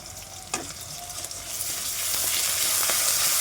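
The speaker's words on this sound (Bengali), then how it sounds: "মশলাটা ভালো করে কষিয়ে নেব।" Slit green chilies, ginger, garlic, dried red chili and coriander paste sautéing in hot oil, a steady close sizzle that builds louder, with a few sharp stirring clinks near the start.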